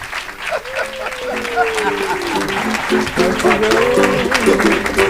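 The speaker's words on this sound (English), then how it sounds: "How about a round of applause for the great Sebastian Kienle?" Applause for triathlete Sebastian Kienle at the Breakfast with Bob show in Kailua-Kona, a crackling clatter of clapping running throughout beneath a tonal voice or music line that rises and wavers on top.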